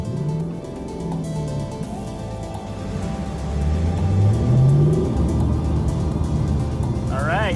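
A Lexus LC 500 coupe drives on a racetrack, its engine rumbling loudly and steadily and swelling as it accelerates, with a brief higher whine near the end.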